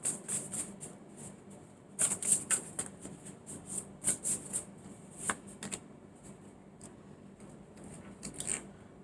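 Tarot cards are shuffled and drawn in a quick series of crisp, papery riffles and snaps, loudest around the middle and again near the end, with no voices over them.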